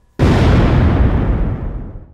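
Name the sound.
explosion blast in a film clip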